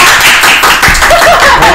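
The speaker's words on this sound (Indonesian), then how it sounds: "Tepuk tangan dulu nggak sih kita?" Podcast hosts clap their hands in a studio, a short, close, loud patter of claps with a little laughter or voice mixed in.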